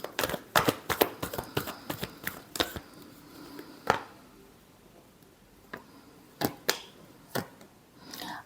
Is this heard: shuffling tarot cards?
yes